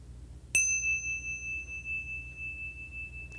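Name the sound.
bell chime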